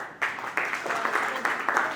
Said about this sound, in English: So we want to clap for Rotarian Sabyasachi Ray.